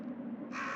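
A crow caws once in the PS1-era survival horror game Resident Evil 1, a short harsh call rising out of a low ambient hum.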